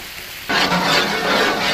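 Mustard seeds hit hot cold-pressed sesame oil, bursting into a close, loud, crackling sizzle that starts abruptly and continues steadily.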